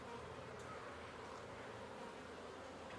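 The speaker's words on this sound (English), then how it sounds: "The bees are buzzing around, happily settled in." Honey bees buzz around a beehive recently moved about 180 miles in summer, a steady faint droning hum of many insects with no talk, constant and even throughout.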